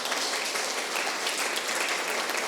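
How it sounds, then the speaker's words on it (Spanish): Audience applause for a human-rights ombudsman's office team at a report presentation in Ecuador, a steady dense wash of many hands clapping throughout, even and sustained at moderate distance. "quisiera pedirles por favor un aplauso para el equipo"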